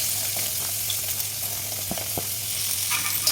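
Urad dal, chana dal, whole garam masala, potato and carrot frying in oil for veg semiya: a steady, loud, close sizzle with a few faint stirring clicks, no voices.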